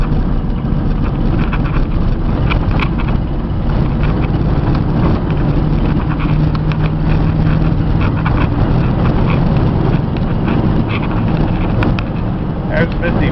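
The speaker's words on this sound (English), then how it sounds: "Oh, she's a little shaky for the heavy duty truck." A Ford F700 stake-body heavy-duty truck with a power liftgate and cage, driving at highway speed beside a river, gives a steady loud engine and road rumble with wind buffeting throughout while someone talks over it.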